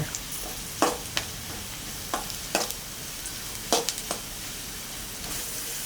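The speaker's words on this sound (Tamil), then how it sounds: "இப்போ நெய் ஊற்றி அதில் வந்து நம்ம க்ளீன் பண்ணி வச்சுக்க பிரண்டையை ஆட் பண்ணணும்" Cleaned pirandai (adamant creeper) fries in ghee with a soft continuous sizzle, broken by several sharp scraping clicks of a spoon stirring the pan at irregular intervals.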